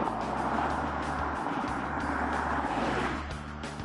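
Bentley Bentayga in The Grand Tour video game, driving at speed with a steady, loud engine drone and road roar that continues throughout and eases slightly near the end.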